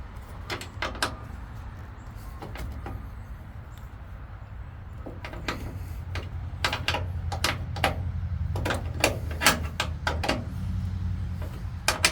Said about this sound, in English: You can now take the provided torque wrench and remove the cable support bolt.